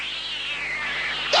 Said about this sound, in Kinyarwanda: dore ipusi